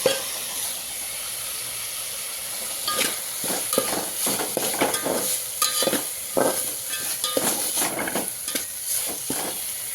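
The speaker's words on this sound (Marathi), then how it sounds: "आता त्याच्यामध्ये हे काढून घेतलेलं खोबरं टाकून घेऊया" Grated coconut stirred into goat mutton barbat in a hot pan, a continuous sizzle and hiss broken by repeated scraping bursts of the spoon, close and fairly loud, with no talking.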